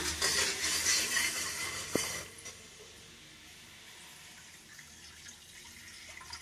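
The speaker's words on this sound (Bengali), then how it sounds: "এর মধ্যে এবার আমরা জল অ্যাড করে নেব।" Water poured into a spice mixture for a singhi fish stew, a bright splashing pour at the start that cuts off near two seconds, leaving a faint simmering hiss in the pot.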